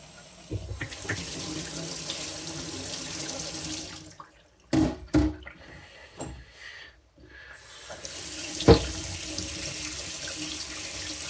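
Tap water runs steadily into a sink while a razor honing stone is rinsed, the flow breaking off midway with a few splashes and knocks, then resuming near the end.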